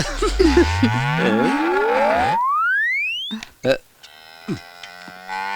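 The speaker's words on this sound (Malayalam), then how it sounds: "ഒരു പശുക്കിടാത്തിയുടെ വികാരഭരിതമായ കരച്ചിൽ പുറത്തു വന്നിരിക്കുക" A young cow calf moos in a Malayalam film scene, a loud wavering call, alongside a rising comic whistle-like sweep and bursts of people talking.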